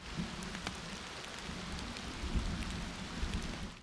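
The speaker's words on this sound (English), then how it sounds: "the deep focus soundscapes. You can choose a thunderstorm, rain, bonfire" Steady rain from a phone focus app's soundscape, a dense even hiss of falling drops with low rumbling undertones like distant thunder, quiet and continuous with no voices.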